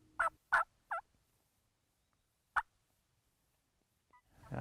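A wild turkey gobbles in a few quick, rough calls in Georgia woods in spring, followed by a lone single call after a pause, with a quiet outdoor background.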